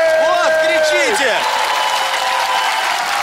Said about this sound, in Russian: фабрика и футбольные фанаты, ваши аплодисменты!